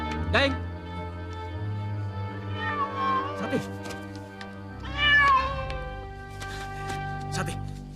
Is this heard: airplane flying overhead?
no